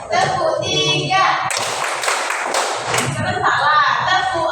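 Several sharp, loud hand claps burst out in a short cluster in the middle, with voices talking and calling out before and after them.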